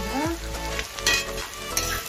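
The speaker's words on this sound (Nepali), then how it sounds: "प्याज फ्राई गर्दैछु है" Onions fry in a pan for chicken soup with cumin, ginger and garlic, a close sizzle broken by a few short scrapes and clinks of a utensil against the pan.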